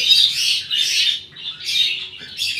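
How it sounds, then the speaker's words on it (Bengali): A pair of Giribaz pigeons calling close by in bursts of high squawks and chirps separated by short gaps, with no talk over them. "খুব সুন্দর পেয়ার, কত লম্বা চওড়া পায়রা"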